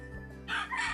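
A Thompson White gamefowl rooster crows once, fairly close, short and rising, with a faint farm background.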